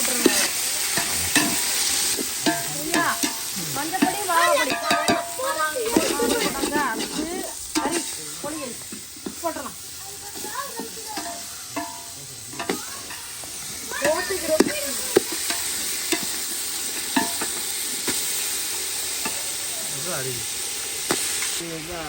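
Tomatoes and mutton stirred and fried in a pan for a home meat feast, a steady sizzle with repeated scraping stirs, close and fairly loud, while people talk over the cooking throughout.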